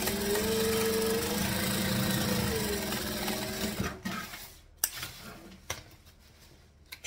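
A sewing machine stitches steadily through thick thread, beginning with a reverse pass, its motor humming continuously for about four seconds before it stops, followed by a few scattered clicks and handling taps.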